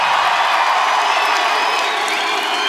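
A live crowd at a hip-hop concert cheers and shouts loudly, a dense wall of voices at a large festival show, with no clear speech on top.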